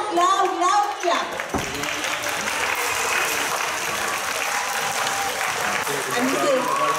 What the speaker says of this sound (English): So I want you to give them a loud, loud, loud clap.